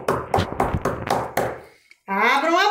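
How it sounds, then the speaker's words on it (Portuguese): Knuckles rap a wooden door about six times in a steady, resonant rhythm, close and clear, in a children's animated fairy tale; right after the knocking, a voice begins speaking. "O lobo mais uma vez bateu na porta"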